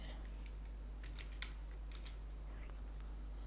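Text typed on a computer keyboard: quick, light key clicks in short bursts with brief pauses, fairly faint over a steady low background hum.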